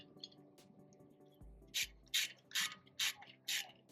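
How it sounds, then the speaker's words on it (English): Locking screw being fitted to a new brake disc on a car during a DIY brake replacement: a few low thuds, then a run of five sharp, evenly spaced ratcheting clicks close by, with no talk. "I'm going to put this little locking screw for the disc."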